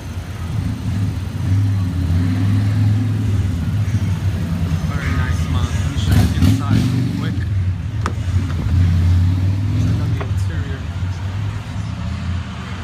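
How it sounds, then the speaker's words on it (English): A turbocharged 2007 Mazda CX-7 AWD idles with a soft, steady low engine hum throughout, while a person talks over it. "she has a nice soft sound to her engine"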